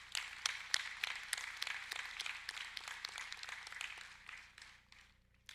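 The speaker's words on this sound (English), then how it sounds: "please join me in one more round of applause for our outstanding faculty award" Crowd applause at a Miami University Farmer School of Business Class of 2021 commencement, honoring faculty award recipients: dense, steady clapping from a large audience that thins and fades out at the end.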